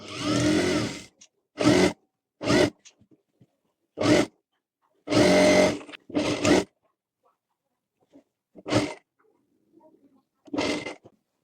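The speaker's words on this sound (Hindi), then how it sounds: "यहाँ से यहाँ तक सिलाई लगा लेंगे पूरे में।" A sewing machine stitches the fabric of a dhoti for a Krishna costume, running in about eight short bursts of roughly half a second to a second, separated by silent pauses, close and fairly loud.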